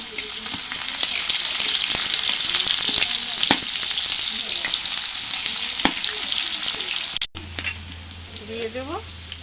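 Chopped onion sizzles loudly in a pan for a Bengali tit begun dish, a dense steady crackle with sharp pops, before it cuts off abruptly near the end and a low hum with a few faint squeaks follows.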